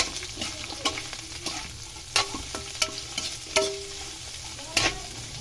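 Mung beans frying in a pan for a moringa mongo dish, stirred with a spoon that knocks the pan in sharp, irregular clacks over a steady low sizzle, close by, without speech.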